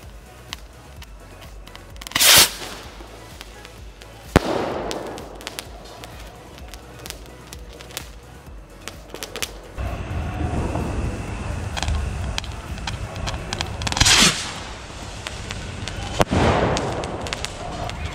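A Diwali firecracker rocket fired from a Chinese chatai firecracker string sets off a few sharp outdoor bangs and pops. Each is followed by fizzing and crackling, and scattered smaller snaps run on throughout.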